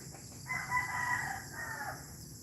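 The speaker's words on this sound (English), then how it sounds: "I think a couple roosters, 2 or 3 roosters" A rooster on a farm in Bohol crows once, a drawn-out, fairly close call over a steady background hiss, with no one talking.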